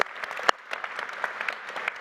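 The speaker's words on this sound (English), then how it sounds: "Give them a round of applause." Scattered claps from the audience at the Trans in the City Gala 2022, a brief, moderate round with individual hand claps standing out and one sharp clap near the start.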